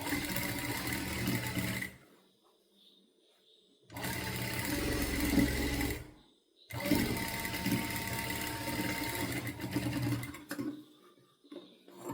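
A sewing machine joins the sleeve and side seam of a child's top, running in three close, steady whirring bursts of a few seconds each with quiet gaps between them.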